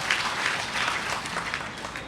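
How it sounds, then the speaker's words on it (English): Irish, English and Scottish spectators applaud at an international bowls pairs final in Hong Kong, a brief steady wash of many hands clapping, moderately distant and even. "Applause from the Irish and the English and the Scots there."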